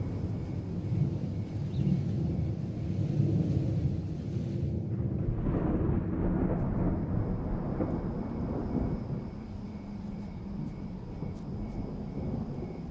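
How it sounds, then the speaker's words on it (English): A deep, rolling rumble of thunder swells and lingers for several seconds over steady rain-like noise, loud and low, with no voices. "A loud clap of thunder scared the ghost away"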